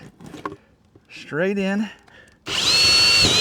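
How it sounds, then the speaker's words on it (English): A power drill fitted with a hole saw whines loudly and steadily for about a second while boring a pilot hole during an off-grid solar build, following a brief stretch of someone talking. "I got to drill the pilot hole for the other side"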